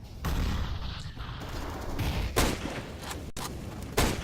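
Grenades explode in a Counter-Strike: Global Offensive esports match, heard as a dense rumble of blasts and gunfire with two sharp bursts near the end.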